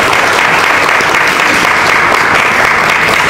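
A loud, dense wall of audience applause fills an award ceremony at a college festival, steady and sustained without a break.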